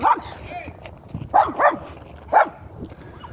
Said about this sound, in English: Sorry, got a dog chasing me.